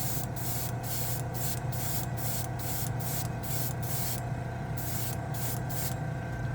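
Second coat of Green Stuff World metal color paint sprayed through an airbrush, a close hiss broken into short repeated bursts with brief pauses between them, over a constant low compressor hum.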